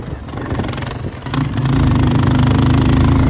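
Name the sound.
motorcycle engine roaring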